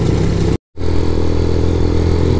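Dirt bikes including an LX 350, a Teneré 600 and a 650 ride loudly along an unpaved country road, engines droning and rattling close by with a brief total dropout, no voices.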